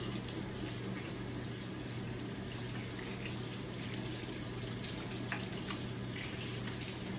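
Running tap water streams steadily into a sink as hands are rinsed off, a constant even wash of water sound with no talking over it.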